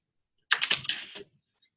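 A short burst of quick keystrokes on a computer keyboard, close and crisp, a dozen or so clicks in about three quarters of a second followed by silence.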